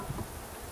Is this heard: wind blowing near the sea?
no